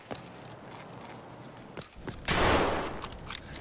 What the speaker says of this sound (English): I'm unarmed! Stop shooting!